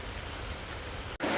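Rain falls in a village as a soft, steady hiss with no voices. It drops out for a moment near the end and then returns slightly brighter.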